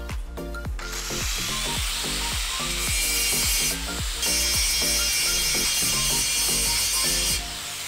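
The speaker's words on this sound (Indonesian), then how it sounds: "coba kita bersihkan dengan menggunakan gerinda" A grinder cleans a weld on iron bars, giving a harsh, sustained hiss over a rhythmic series of scraping, ratcheting strokes close by.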